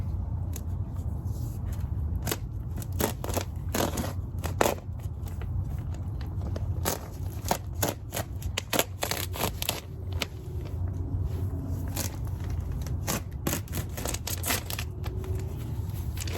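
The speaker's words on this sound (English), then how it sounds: "now we're going to cut the top open so that it's like a garden bed" Scissors or a blade cutting open the top of a plastic soil bag for a garden bed, giving close, irregular snips and crinkly crackles over a steady low background rumble, with no voices.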